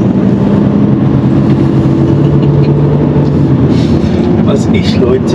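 A moped without a number plate rides past on a road, its engine a steady droning hum under continuous traffic noise, close and fairly loud throughout, with someone talking over it.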